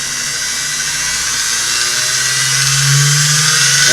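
A sewing machine motor runs after electrical splicing, giving a loud, steady high-pitched whine that holds throughout and rises slightly in pitch and volume toward the end.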